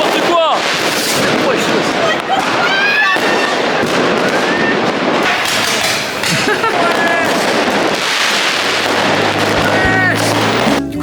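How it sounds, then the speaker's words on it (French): New Year's Eve in Berlin, with fireworks and hand-sized rockets going off nearby: dense, continuous bangs, crackles and whistling launches overlapping for the whole stretch, loud and chaotic, with voices shouting beneath. "des mecs random comme ça avec des feux d'artifice, des roquettes qui font la taille d'une main"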